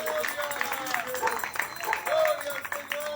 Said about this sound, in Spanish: Dele un aplauso a Cristo, dele gloria.